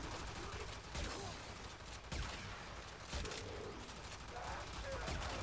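Arca Plasmor weapon firing in a video game, a run of loud, heavy energy blasts roughly once a second under constant game noise, with a voice talking over the shots.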